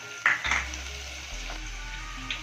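Crushed garlic sizzles steadily in hot oil while pickling tomatoes, a continuous close frying hiss with a few brief scraping stirs near the start and end.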